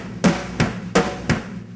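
Drum kit broken down slowly from a song: four evenly spaced hits, each a punchy low thump blended with a splashy cymbal wash, played close and alone.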